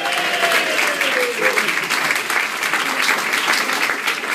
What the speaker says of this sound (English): Big round of applause for the one and only Richard Digence